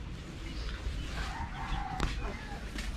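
Backyard chickens with a rooster crowing over clucking hens, a steady outdoor murmur underneath and a voice speaking in places.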